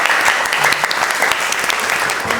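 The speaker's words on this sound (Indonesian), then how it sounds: "beri tepuk tangan buat Rizky." Students in a classroom give a burst of applause, dense and steady clapping filling the short stretch at close, fairly loud level.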